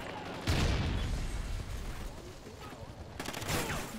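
Shotgun blasts in Call of Duty Ghosts during a Kill Confirmed match: two loud booming shots about three seconds apart, each with a short decaying tail over a low game background.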